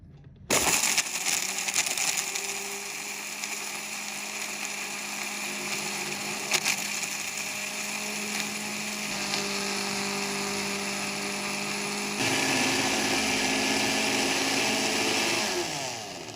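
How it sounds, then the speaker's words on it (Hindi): An electric grinder grinds chaat masala spices, a loud continuous whirring motor running nearby for the whole stretch, with a slight change in tone partway through. "आधा आधा करके हम इसको ग्राइंडर करेंगे, एक साथ नहीं करेंगे।"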